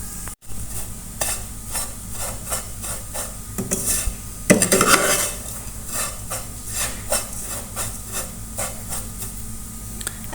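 Lachha semai vermicelli frying in a pan is turned over and over, producing rhythmic dry scraping and rustling strokes over a low sizzle, with one louder burst midway.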